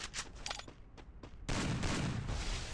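Shotgun fire in a Free Fire Lone Wolf match on the snowy Ice Ground map, a few sharp separate shots and then a dense, louder volley of blasts, close and on its own.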